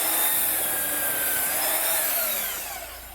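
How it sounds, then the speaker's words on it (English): A belt sander runs steadily across a wood surface for shou sugi ban work, giving a loud, continuous broadband whir with a shifting whine that fades slightly at the end. "Now, the belt sander is the next one."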